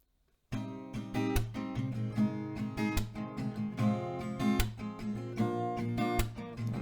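An acoustic guitar strums the chorus of a song, with steady rhythmic chords and percussive slaps, close up and loud, and no singing.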